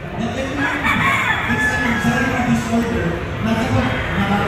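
Boston Roundhead gamefowl rooster crowing amid a busy gamefowl expo hall, the crow blending into a dense, continuous din of other roosters and crowd chatter, with someone talking over it.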